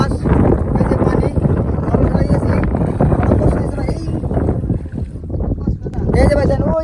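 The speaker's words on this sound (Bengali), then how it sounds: "আমরা এখন নদী পার হবো। যে অনেক দূর পাড়ি দিতে হবে" Strong wind buffets a boat crossing a wide river, a steady loud roar of wind and water filling the whole stretch while people talk over it.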